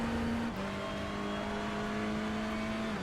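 TCR race car engines in a racing video game at the Nurburgring GP circuit, a sustained high-pitched engine whine with a brief gear change near the start, steady and loud without talk.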